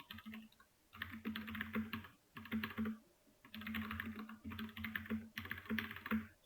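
Bursts of rapid typing on a computer keyboard during a web development lesson, quick clustered key clicks separated by short pauses, close and clear with no talking.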